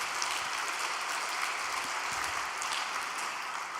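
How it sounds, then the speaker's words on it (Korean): Steady applause from a gathered audience at a religious all-night prayer meeting, even, hissing clapping of moderate loudness without breaks. "건강하시라고 박수 한 번 더 보내주시기 바랍니다"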